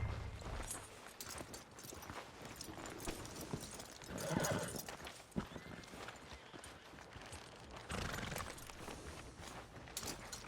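Horse hooves clip-clop at a walking pace in the Red Dead Redemption 2 video game, a quiet, steady run of hoofbeats with a short louder flurry midway and no voices.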